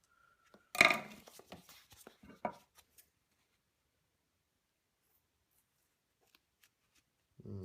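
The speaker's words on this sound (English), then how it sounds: "Scissors seems okay." Scissors cut through tough knee pad material in a short flurry of close, crisp snips and crunches, followed by near silence and a faint rustle at the end.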